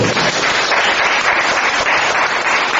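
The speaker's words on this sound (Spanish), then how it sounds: "Un aplauso." Audience applause at a church confirmation service, a dense, loud and steady wash of clapping with no talk over it for its whole short length.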